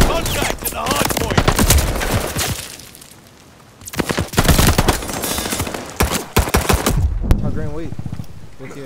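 Bursts of automatic gunfire ring out near a contested hard point in a first-person shooter match, loud volleys separated by brief lulls and closing with sharp rapid shots, with a voice talking among them.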